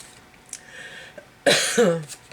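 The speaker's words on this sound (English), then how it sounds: "I don't want to start coughing again" A single harsh cough bursts out close by, loud and breathy, after a few quiet seconds of faint background noise.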